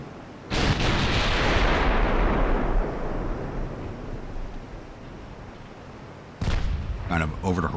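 Naval artillery in the Ultimate Admiral: Dreadnoughts warship game, set in 1890s Italian service, booms out in a loud sustained blast that rolls and fades, then a second heavy report erupts near the end.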